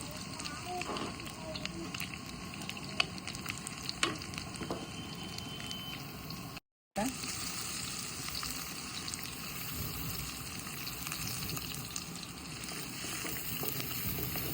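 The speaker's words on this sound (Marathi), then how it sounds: "जिरं घालायचं जिरं पण छान फुलले लसण घालायचा" Cumin, garlic and ginger fry in oil in a pan while a leftover-chapati dish is cooked, making a steady crackling sizzle throughout with scattered pops and a brief dropout midway.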